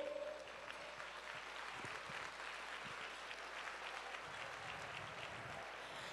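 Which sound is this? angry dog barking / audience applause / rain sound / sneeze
audience applause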